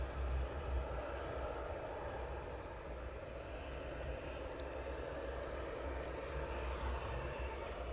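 An airliner taxis for departure at Luton Airport, its jet engines giving off a steady, distant broadband roar with faint intermittent clicks and no voices.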